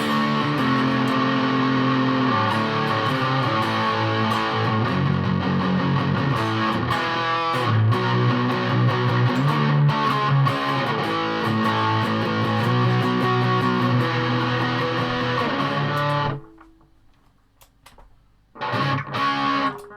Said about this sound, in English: Try a wee bit of distortion.